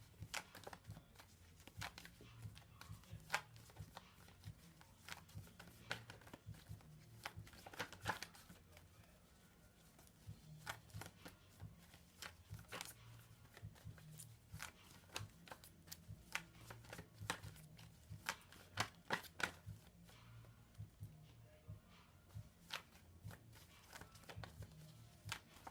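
Tarot cards being shuffled and pulled for a reading, soft riffling and flicking that repeats in quick close bursts over a faint steady background hum, quiet and near, no talk.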